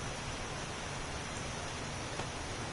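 In the 7 Days to Die video game, rain falls inside an underground base as a continuous, uniform wash of hissing patter that never swells or fades.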